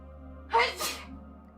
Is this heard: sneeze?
yes